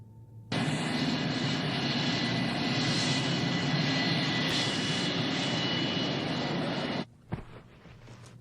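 Steady, loud roar of an airplane's jet engines on the ground before takeoff, filling the scene for about six seconds, then cutting off abruptly and leaving only faint rustles.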